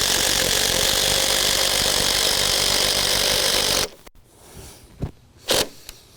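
A power driver sinks a timber lock screw into the rim joist of a wooden shed, a loud continuous whirring grind for several seconds that cuts off abruptly, followed by a few quieter knocks and clicks.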